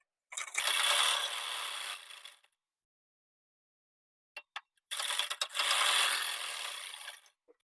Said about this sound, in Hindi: अब यहाँ पर हम आधा इंच का मार्जिन लेकर सिलाई को लगाएंगे।